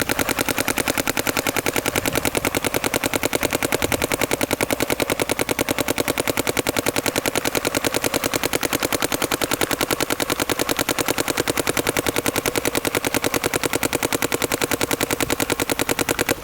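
A Planet Eclipse Gtek 180R paintball marker fires continuously on an NXL ramp, an unbroken, rapid, evenly spaced stream of loud pops that holds for the whole stretch with no voices.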